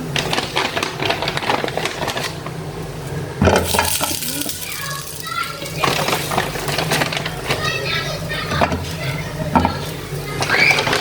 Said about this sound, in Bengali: এটা উল্টিয়ে পাল্টিয়ে ফ্রাই করবো